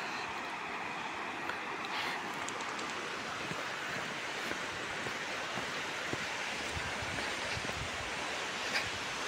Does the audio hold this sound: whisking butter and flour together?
no